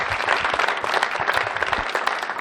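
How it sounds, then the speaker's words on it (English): Concert audience at a fall jazz concert applauds steadily, a dense, fairly close wash of many hands clapping without pause. "Please continue your round of applause for Rick Klein up there in the booth."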